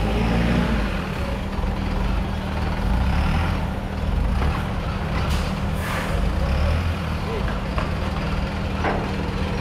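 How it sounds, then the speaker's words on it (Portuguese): A truck rumbles and idles while boarding the Santa Rosa river ferry between Belém and Breves, with a constant low engine drone, hissing air brakes and faint reversing beeps, while someone talks over it. "embarcando mais um caminhão nesse momento aqui na balsa Santa Rosa"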